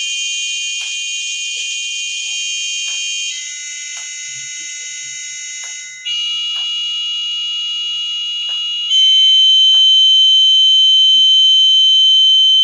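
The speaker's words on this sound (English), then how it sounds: "I'm going to make Sparky make a noise, make the same noise as a note" Small Arduino-powered robot named Sparky sounds a sustained electronic F note tone, a shrill piercing beep held steadily and stepping through slight pitch and loudness changes, growing louder near the end.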